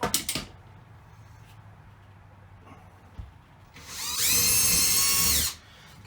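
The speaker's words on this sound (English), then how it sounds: "I'm going to finish drilling it out without drilling into the bracket" Electric drill boring out a hole in a steel RV hook bar, a loud steady high whine running for about a second and a half near the end after quieter handling noises.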